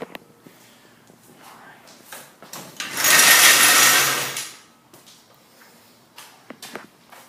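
A power tool runs in one steady burst of about a second and a half, tightening bolts on truck control arms during a lowering job, with scattered clicks and tool handling before and after.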